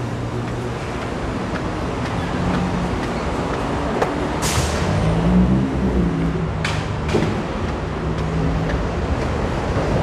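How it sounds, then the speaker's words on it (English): A New York City subway train approaches a station on the Coney Island line, heard as a steady, loud rumble with rushing noise and a few sharp metallic clanks and squeals from the rails. "Oh, sounds like the train's coming."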